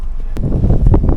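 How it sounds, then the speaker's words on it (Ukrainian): Wind buffets a microphone beside fishing canals on a breezy day, a low rumbling roar with a few sharp gust pops and no one talking. "Буде чути геть погано, бо хороший вітер."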